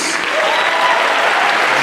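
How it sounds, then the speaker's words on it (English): An inauguration audience gives a loud, steady round of applause for a judge being seated on stage, dense clapping with no pauses. "If you can give a round of applause to Judge Renee Cruz"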